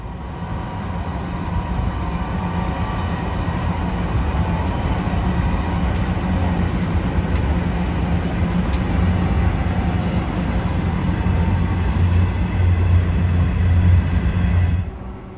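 Three freight locomotives haul a train of empty coal hoppers through Sandgate Station on the Hunter Line, making a loud, continuous rumble with a low diesel drone and faint rail clanks that last throughout.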